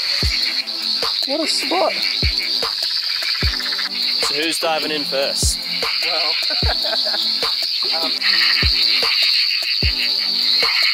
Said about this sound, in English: It's the most hectic cacophony of frog noises.